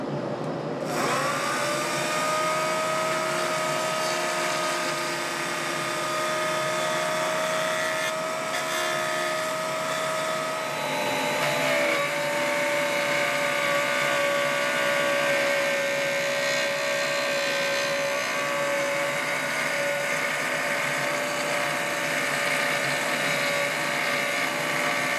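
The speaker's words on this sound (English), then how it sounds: "I'm getting a little bit better cut with the pin router" A pin router cuts a solid-body guitar blank along a template, a loud, steady high-pitched motor whine with a shrill cutting tone that starts abruptly and runs continuously, with slight shifts in pitch as the bit works.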